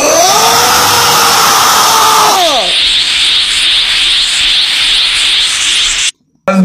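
A person imitates Gohan's beast scream from Dragon Ball, a strained voiced yell with falling harmonics for about two and a half seconds, then a loud breathy hiss-like roar that continues steadily until it cuts off near the end.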